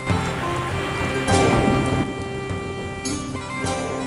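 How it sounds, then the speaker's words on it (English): Steady rain falls throughout a scene in The Hobbit video game, a continuous hiss of drops with brief swells in intensity and no talking. "This dratted rain."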